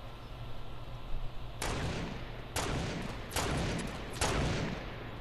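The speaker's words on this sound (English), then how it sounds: "I hear all those bullets, boy." Gunfire in the Fortnite video game comes in four loud, sharp bursts spaced about a second apart, each fading into a short tail over a steady low background hum. No voices.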